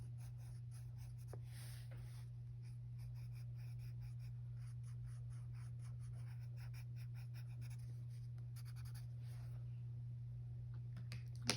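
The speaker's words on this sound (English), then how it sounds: "you can color the whole thing with rainbow pencils" Soft, continuous scratchy strokes of a coloured rainbow pencil on paper, quiet and close, over a low steady electrical hum.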